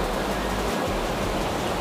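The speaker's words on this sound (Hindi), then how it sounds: "आवाज़ बहुत तेज़ है गाइस इसकी क्योंकि पानी है, पानी बहता है तो आवाज़ तो करता ही है।" Loud water rushes through a drain channel behind a gate in Ajmer's Baradari area, forming a dense, continuous roar close by without pause, with no talking heard.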